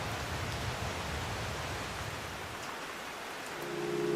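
Steady, heavy rain pours down continuously as a dense, even hiss with no breaks, and a faint low hum enters near the end.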